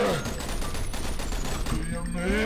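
Gunfire from the shooter video game AWO: a dense, continuous barrage of shots running through the whole stretch at steady loudness, with a voice talking over it.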